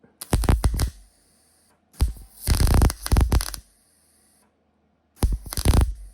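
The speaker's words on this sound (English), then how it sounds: "I tap it in place, now I'm going to weld it. I got the welder very hot." Short welding bursts fuse a patch onto the driver's-side chassis of a 1972 VW Super Beetle, three separate crackling, sizzling runs broken by silent pauses, up close and loud.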